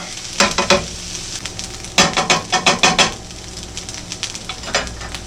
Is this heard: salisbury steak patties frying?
yes